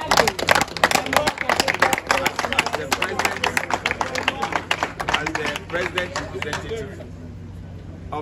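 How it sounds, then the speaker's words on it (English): Clapping from a crowd at the launch of regional games in Takoradi, Ghana, a dense run of claps under babble and voices, loud at first and fading out over the last seconds. "A round of applause."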